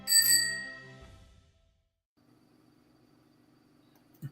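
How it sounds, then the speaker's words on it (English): A single bright bicycle bell ring sounds loud at the start and fades away, followed by a faint low hum and a brief soft bump near the end. "ring the bell"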